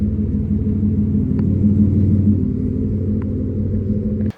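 A loud, steady, deep exhaust rumble from an Aston Martin engine fitted with a new exhaust, holding close and constant for several seconds before cutting off abruptly, with no voices over it.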